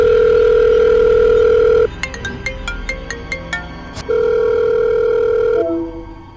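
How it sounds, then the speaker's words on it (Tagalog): Telephone line tones during an outgoing call in a drama episode: loud, steady held tones, broken midway by a quick run of short chiming pips, then the steady tone returns and fades. "Wait, tawagan natin si Dexter"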